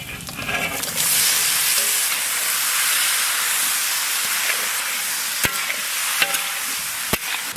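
Papad fries in hot oil with a loud, bright sizzle that swells in after a second and hisses steadily, broken near the end by a few sharp clicks and taps of a utensil, no voices.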